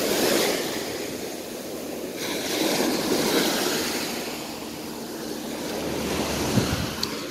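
Sea waves roll onto a beach in slow, broad swells of rushing surf, with steady wind buffeting the microphone throughout and no voices present.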